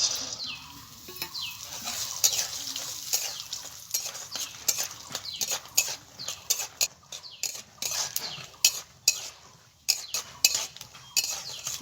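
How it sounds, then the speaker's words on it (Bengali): Peanuts fry in mustard oil in a wok while being stirred, with a steady run of sharp scraping clicks and taps from the utensil over a soft sizzle, close up and with no talking. "প্রথমে আমি কিছু চীনাবাদাম ভেজে নিচ্ছি।"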